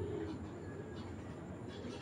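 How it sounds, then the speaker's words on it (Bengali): A Bezi pigeon, a raw-breed bird, gives a soft low coo, faint and close, with a quiet background hum. "এই যে একটা বেজি কবুতর"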